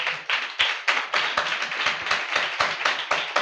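Congregation clapping during a church Sunday service, a steady run of sharp, rhythmic handclaps filling the room, fairly close and loud with no talking over it.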